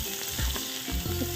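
Onions frying in a pan for a vegetable pulao, with a continuous close sizzle and bursts of crackling as they are stirred, no voices.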